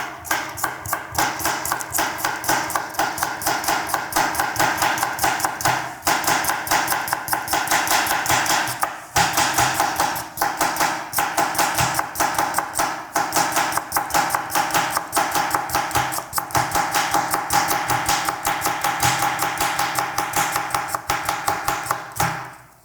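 A knife slices cucumbers on a cutting board in quick, steady, rhythmic chops, close and crisp, running almost without pause apart from a few brief breaks and no talking.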